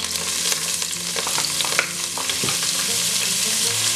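Onions, chives and pepper frying in a pan while being stirred, a dense close sizzle with irregular scraping strokes and no voices.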